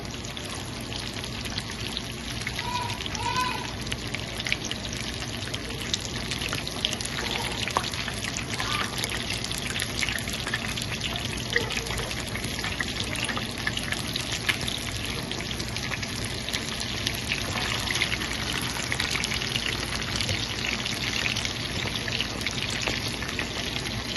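Chicken pieces frying in hot oil, a steady dense sizzle and crackle that holds loud and continuous from start to finish with no talk over it.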